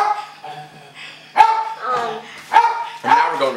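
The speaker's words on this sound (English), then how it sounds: "Can't even hear me over the dog." Dog barking loudly nearby, three or four sharp barks spaced through the clip, mixed with people talking in the background.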